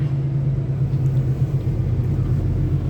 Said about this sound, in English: I'm leaving it in low gear because I want the engine to warm up.